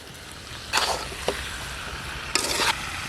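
Potatoes fry with red country chicken meat in a pan for a village-style curry. Two short scraping stirs rise over a steady, soft sizzle.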